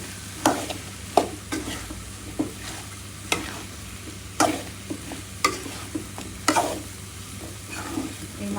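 Pumpkin being sautéed in a pan for a shrimp curry, with a steady sizzle under a string of sharp spoon scrapes and stirring clatters that repeat every second or so, close up, with no talking.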